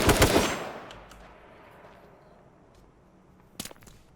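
H1Z1 video game gunfire, a rapid loud burst of shots at the start that decays into reverberant tail, followed by a short second burst near the end.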